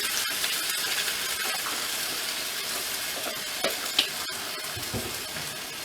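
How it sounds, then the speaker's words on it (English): Rice fries in a pot with a constant loud sizzle, while occasional soft scrapes and clicks come from stirring, without any talking. "Stir it around a little bit more."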